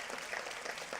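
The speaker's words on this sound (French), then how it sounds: "On peut l'applaudir, merci." An audience at an oath-swearing ceremony at a regional congress claps in a brief, faint patter of many hands, heard from a distance.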